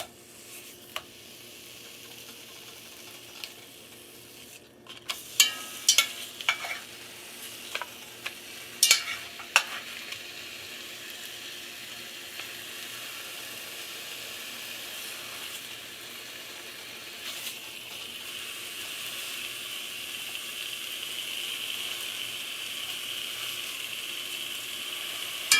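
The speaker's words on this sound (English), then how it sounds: "I'm going to fry half a package of bacon." Half a package of bacon frying in a 5-quart Dutch oven on a stovetop set to 6, a steady broadband sizzle with a cluster of sharp spatters and pops early on, then an even hiss that slowly grows louder.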